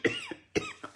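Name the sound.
cough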